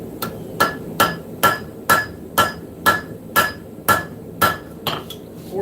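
Hot metal is forged on the edge of an anvil with a hammer, about a dozen loud ringing blows in an even, steady rhythm, close up.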